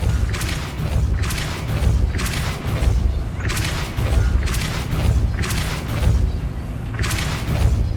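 Repeated magical force bursts from the Depulso spell in Hogwarts Legacy, five or six loud whooshing blasts at a steady rhythm about every second and a half over a low rumbling background.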